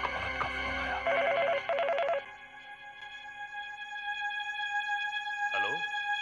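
A telephone rings in a Hindi crime drama: a repeating electronic ring tone in clear bursts over a steady musical background, followed by lingering tones and a faint swoosh.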